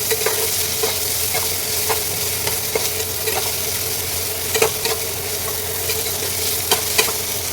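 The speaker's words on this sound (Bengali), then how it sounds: "একটু নাড়াচাড়া করে নেবো" Onions, cashews and raisins stir-fried in a pan, a steady close sizzle broken by repeated scraping knocks of a spoon or spatula throughout, with no talking.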